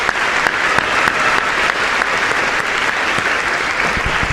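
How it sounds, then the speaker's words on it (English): An audience at a school induction ceremony for an incoming class breaks into sustained applause, a full, steady roar of many hands with a few sharp individual claps standing out near the end. "Give yourselves a big round of applause."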